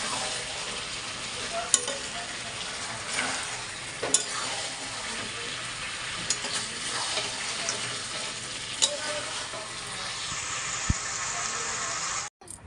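Potatoes, already fried with salt, are added to a chicken curry being cooked down in oil, setting off a steady close sizzle with stirring scrapes throughout, briefly cut off near the end.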